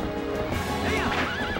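Horse neighing in The Legend of Zelda: Twilight Princess, a loud close whinny with wavering pitch rising over the game's steady background music and ambience, no talk over it.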